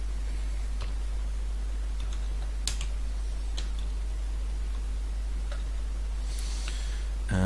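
A name typed on a computer keyboard, with sparse, light key taps spread out over a steady electrical hum.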